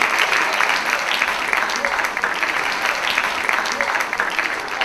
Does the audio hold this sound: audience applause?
yes